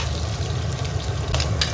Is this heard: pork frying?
yes